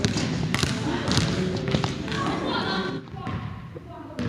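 A basketball thumps on a gym floor during a reverse layup drill, dull bounces and thuds mixed into a busy, echoing court with voices talking throughout.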